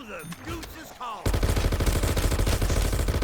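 A Death Machine gun in a zombie-survival video game unleashes a loud, continuous, rapid-fire roar that bursts in abruptly after a second of quieter in-game noise and holds steady to the end.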